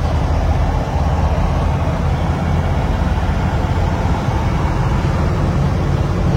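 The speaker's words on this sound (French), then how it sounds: "On roule à 50-60 miles à l'heure et c'est déjà terrifiant" Loud, steady road rumble and engine drone fill a car cruising at 50 to 60 miles per hour, a continuous dense roar with no voices.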